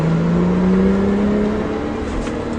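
A Porsche 997 Turbo accelerates hard on a track, its engine note climbing steadily in one smooth, loud, continuous whine heard from inside the car.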